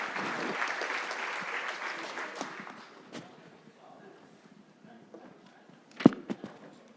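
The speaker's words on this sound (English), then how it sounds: "give our keynote speaker, Dr. Audra Belhana, another round of applause." Conference audience applauding a keynote speaker, dense clapping loud at first then thinning out into scattered claps, with a few sharp isolated claps near the end.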